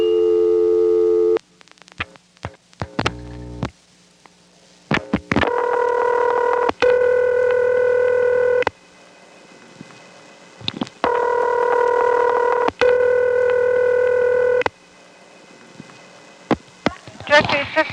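Telephone line tones on a Bell #355 step-by-step exchange trunk: bursts of dialing clicks, then steady double-ring ringback tones in long repeating cadences with pauses between, each ring sounding layered and buzzy.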